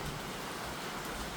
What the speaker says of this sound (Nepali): देख्न सक्नुहुन्छ पानी परिरहेको छ।